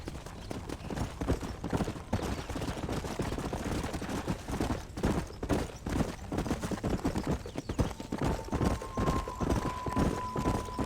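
Horse hooves clip-clop steadily in the Red Dead Redemption video game, a continuous rhythmic trotting under busy game sound with some distant gunfire-like cracks.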